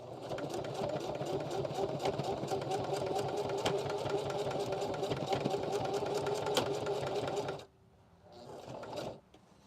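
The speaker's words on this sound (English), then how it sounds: "you can see that this Singer 4423 went right through that" A Singer 4423 sewing machine stitches through heavy webbing on an ALICE pack strap, its fast motor hum and rapid needle clatter running steadily for about seven seconds, then stopping, with a short, quieter burst afterward.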